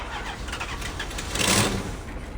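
In the Unturned video game, a modded tank's engine starts up with a dense, loud rumbling roar that holds steady and surges briefly toward the end, with no voices over it.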